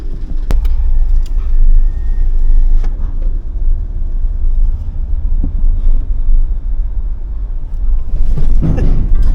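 Car engines rumble at low pitch as vehicles queue and roll onto a ferry at the Tanjung Api-Api port, a steady close drone with wind buffeting the microphone and a few clanks and knocks.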